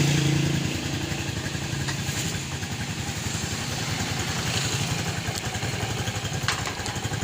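A Rusi 175 motorcycle engine runs steadily at idle close by, with a continuous low rumble and clattery pulsing throughout and no talking over it.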